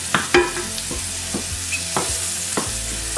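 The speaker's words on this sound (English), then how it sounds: "our mushrooms are sizzling beautifully in this butter" Mushrooms sizzle in butter in a pan, a steady close hiss broken by several sharp scrapes and taps of a utensil against the pan, with no voices.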